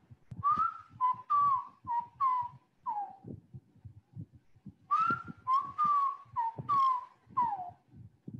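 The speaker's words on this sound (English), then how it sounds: "sometimes you will hear its whistle" An oriental magpie robin in a mangrove habitat whistles clear, sliding phrases in two bursts of repeated notes, fairly near, with soft low thumps beneath and no talking.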